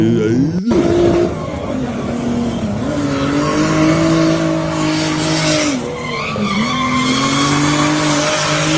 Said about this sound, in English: Boat drifting. Hey, drift racing.